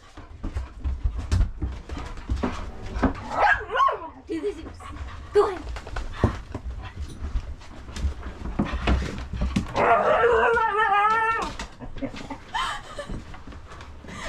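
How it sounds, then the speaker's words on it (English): A beagle bays aboard a sailboat crossing the Atlantic Ocean, with panting and a drawn-out wavering howl near the middle, close by while people talk around it. "Was she just baying? I think she was baying."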